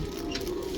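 Cooing from a dabb-patterned pigeon held in the hand, with a steady low throaty murmur running through the brief moment, close and fairly quiet, with no talking.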